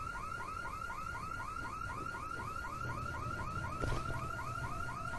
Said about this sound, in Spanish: Apagar la puñetera alarma del coche